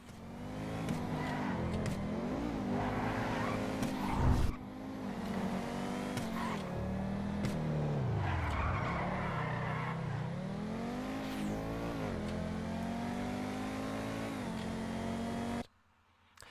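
A supercar in the GTA V video game revs hard and repeatedly, its engine pitch rising and dipping with throttle changes, with brief tire skids and a loud, continuous roar that cuts off abruptly near the end.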